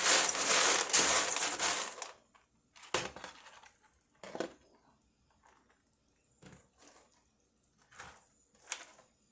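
Chex Mix stirred in a pan with a spoonula, producing close, rustling, crunchy scrapes, loudest in a dense burst at first and then in shorter separate strokes, with no talk.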